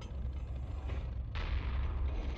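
Combat in Heroes & Generals: a low rumbling backdrop, then a single sharp, fairly loud blast of gunfire about halfway through that leaves a sustained hiss behind it.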